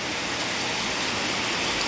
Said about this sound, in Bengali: দেখো একবার বৃষ্টি কাকে বলে